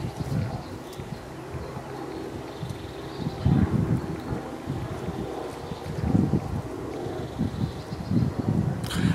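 Wind gusts across an open outdoor campsite, rumbling and buffeting the microphone in uneven surges, with faint bird calls in the background and no speech.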